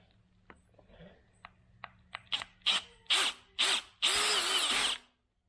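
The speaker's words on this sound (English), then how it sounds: "And now we're drilling with a 6mm bit." A power drill with a 6mm bit whirs in a series of short bursts that grow longer and louder, ending in one sustained run of a few seconds before stopping, while drilling on a dirt bike.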